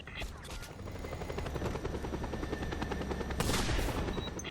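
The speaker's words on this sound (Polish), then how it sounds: "Grapple onto the chopper, comrade, and he'll take you to the witness convoy." A helicopter in the video game Just Cause 2 drones steadily with a loud, continuous rotor and engine rumble, while game sound effects and a brief burst of noise rise near the end.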